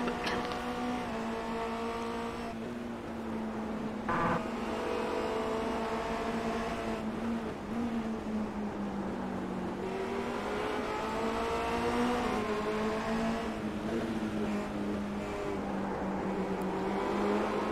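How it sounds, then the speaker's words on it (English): Formula Renault 2.0 race cars circle Zandvoort in a racing video game, their engines droning steadily and rising and falling through gear changes, with several cars running side by side and no talk over them. "Side by side racing there for a moment, and Jamie actually got through."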